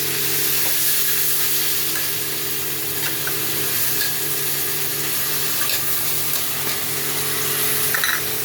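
Ginger garlic paste frying in a pan for garlic chicken, a steady, close sizzle with faint stirring scrapes and clicks throughout, no voices.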